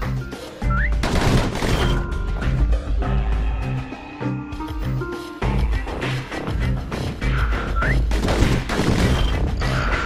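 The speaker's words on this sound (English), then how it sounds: "Those pistols could spit out rounds just as quick as you could pull the trigger." Rapid pistol fire in a video game, loud and dense bursts of shots crashing over a music-like background across the whole stretch.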